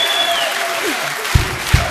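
A studio audience at a comedy show applauds, a dense wash of clapping with a few louder thumps near the end.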